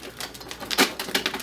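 Paper raffle tickets shaken up inside a drum at a charity pinball machine raffle, giving a loose, dry rustling and clattering that comes in uneven bursts, with one louder shake in the middle.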